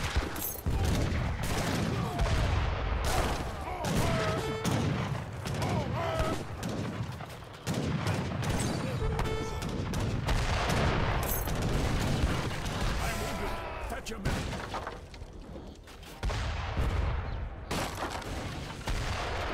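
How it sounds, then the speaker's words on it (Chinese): Gunfire from a real-time strategy battle in Age of Empires III, with machine gun bursts, dense volleys and booming shots crackling continuously over a loud battle din, under a voice talking. "机枪又来了"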